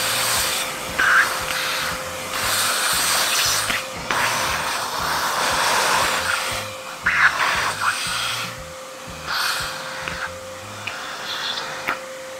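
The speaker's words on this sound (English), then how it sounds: "There is a lot of brush carbon in here, so I'm gonna have to vacuum this out before I go any further." A vacuum sucks brush carbon out of a magnetic finisher, a continuous close whooshing hum with a steady whine. The tone wavers slightly as the nozzle moves, and no one speaks.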